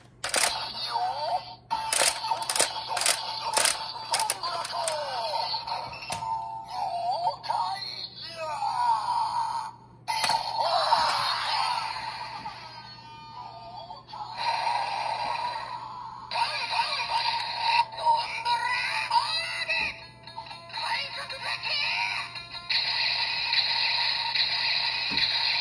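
DX Ryuko No Geki toy from Avataro Sentai Donbrothers playing the Gokai Silver gear sounds: a burst of rapid electronic clicks, then a steady run of bright tones, chimes and music-like effects, fairly loud and close for about twenty-five seconds.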